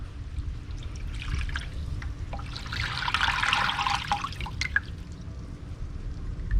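Oil and water running into a pool drain, a steady close trickle and pour with low rumble beneath, swelling a little midway with a few sharp drips and splashes.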